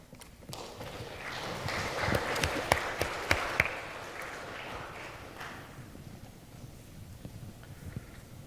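A debate audience applauds for several seconds, swelling in the middle with a few sharper claps, then tapering into quiet room noise.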